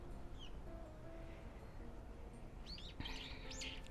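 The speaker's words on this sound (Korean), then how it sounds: "새소리가 너무 좋지 않나요?" Birds chirp outdoors on a forest mountain trail, a faint call early on and a few clearer tweets near the end, over a soft steady background hum.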